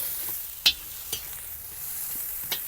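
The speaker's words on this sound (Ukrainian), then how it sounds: "Смажимо буквально пару хвилин." Continuous sizzling of food frying in a cauldron over an open fire, with a few sharp clinks from stirring scattered through it.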